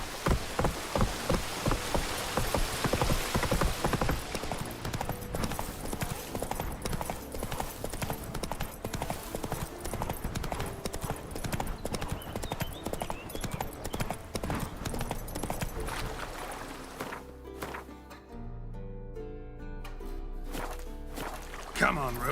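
Roach, the horse in The Witcher 3, gallops with a rapid, rhythmic clatter of hooves over a steady rain-like wash, loud and close, before the hoofbeats thin out and fade near the end; no one speaks.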